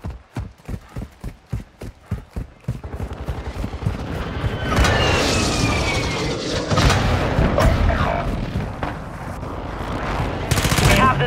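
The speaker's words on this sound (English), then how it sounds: "Friendly precision airstrike inbound." A precision airstrike in Call of Duty Warzone 2.0 DMZ on Vondel begins as a rapid run of evenly spaced thuds, then swells into a loud, rumbling wash of explosions and gunfire that continues to the end.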